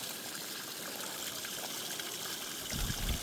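Water runs steadily through a diversion channel near the Ouzoud waterfalls in Morocco, a soft continuous trickling hiss with a slightly stronger gush at the very end.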